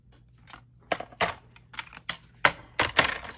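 Paper tag being trimmed for a December Daily advent craft page, giving a string of short, crisp snips and clicks close up, irregularly spaced and fairly quiet with no talking.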